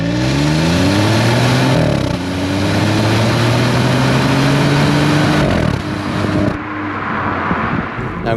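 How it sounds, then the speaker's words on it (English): F56 MINI Cooper 1.5 three-cylinder engine revving hard through the gears with an exhaust flap, loud rising engine tones, a gear change, then a drop to a quieter cruise near the end. "It does a little flap out of the exhaust, so it's quite exhilarating in that regard."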